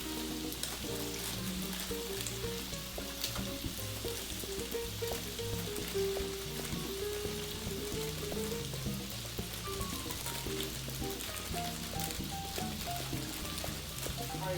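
Bacon frying in a pan gives a steady, dense sizzle and crackle throughout, loud and continuous, with music playing underneath.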